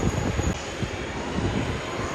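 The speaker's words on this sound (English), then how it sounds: "And touch down." Airplane touching down at Sydney Airport, a steady, loud broadband roar of jet engines and rushing air filling the whole moment without any voices.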